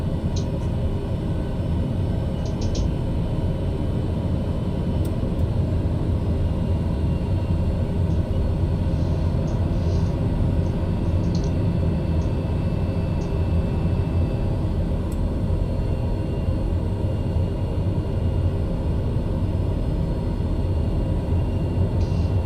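A TBM 850 turboprop taxiing in Microsoft Flight Simulator 2020: a steady, loud, continuous engine rumble and drone holds throughout, with faint intermittent clicks above it.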